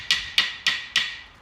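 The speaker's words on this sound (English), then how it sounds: "plastic hammer, guys. Plastic hammer." Four evenly spaced, hollow knocks of a plastic hammer striking a car panel, close and fairly loud, with no talking.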